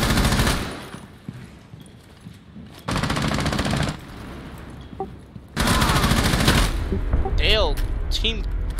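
Video game gunfire in a 2v2 match ending in a drop shot headshot, loud rapid bursts in two long stretches with quieter gaps between, close and dense, with no talk over it.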